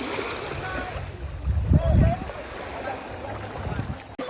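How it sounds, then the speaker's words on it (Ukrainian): Sea waves at Golden Sands beach, a soft continuous wash of water with one fuller surge breaking up close midway, then settling back to a low rush. "ми покайфували від звуку хвиль, насолодились морем"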